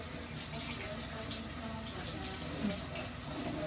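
Running tap water in a kitchen sink as melted chocolate is rinsed off, a steady broadband hiss of flowing water that continues at an even level throughout, with faint talk in the background.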